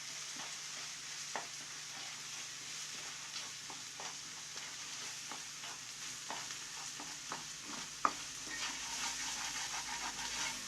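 Egg and salt stirred in a hot frying pan while cooking red aval vegetable upma: a steady sizzle runs throughout, broken by scattered scraping and tapping strokes of the spoon, close and moderately loud.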